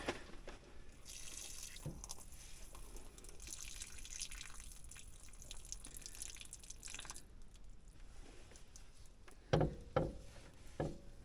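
Water drains and drips out of a tractor component being taken apart during a repair, a steady trickling stream with a few louder splashes and drips near the end.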